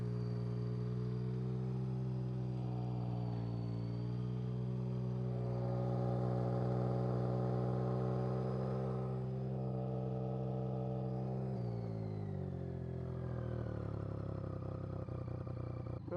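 A BMW cafe racer motorcycle engine idles steadily and loudly up close, its deep harmonic drone rising in pitch around the middle before dropping back to a lower, rougher idle near the end.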